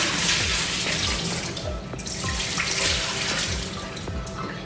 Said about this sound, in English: Now, I'm going to drain the water that's in here.